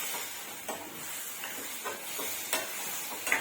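Eggplant pieces sizzle and hiss steadily in hot oil in a pan, with soft stirring scrapes now and then, close and continuous without speech.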